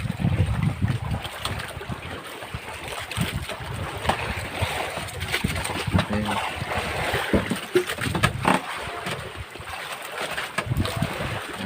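Small fishing boats (bangka) out on open water near a fish aggregating raft, with wind buffeting the microphone, water sloshing and a steady engine-like hum, no clear speech.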